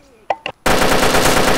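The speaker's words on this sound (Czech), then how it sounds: "Střelba." Sustained automatic gunfire in the video game DayZ, a loud, dense burst that bursts in after two brief short sounds and continues rapidly to the end without talk.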